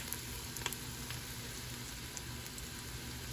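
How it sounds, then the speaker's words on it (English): Chicken sizzling and frying on high heat in a Ninja Foodi, a dense, steady crackle with scattered sharp pops, close and continuous with no talking. "as it's still frying, and because I'm putting it on a high on the Ninja Foodie"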